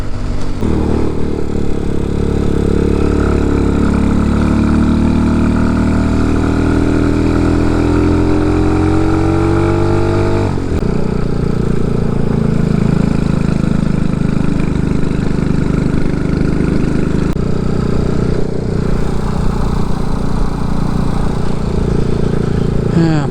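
An RPS Condor 250cc motorcycle with a modified stock exhaust idles steadily and loudly up close, its pitch drifting slowly upward before settling into a rougher, lower idle.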